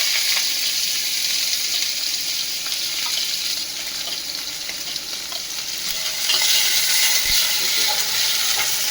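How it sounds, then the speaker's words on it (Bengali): Chopped onion frying in oil with cumin and bay leaf for ghugni, a steady close sizzle with occasional stirring clinks, no talking. "এবার আগে থেকে কুচিয়ে রাখা পেঁয়াজটা এর মধ্যে দিয়ে দিলাম।"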